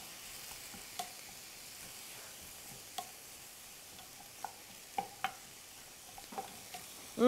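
Finely shredded ginger sizzles softly in a pan for a spicy Thai fish soup, a faint steady frying hiss broken by a few sharp clicks of stirring, with a louder clatter at the end.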